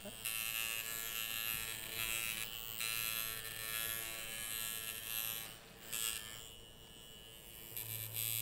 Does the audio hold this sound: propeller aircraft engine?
no